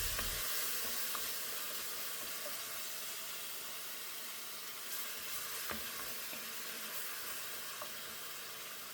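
Blended tomato sauce with dersa simmers in a pan for Algerian batata mchermla, giving a steady close sizzle and hiss with faint bubbling and no voices.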